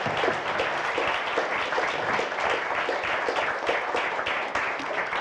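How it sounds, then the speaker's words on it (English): An audience at a Central European Forum panel in Prague gives a steady round of applause, with dense, continuous clapping that fills the hall and no speech over it. "did I actually hear you clapping seriously for these people?"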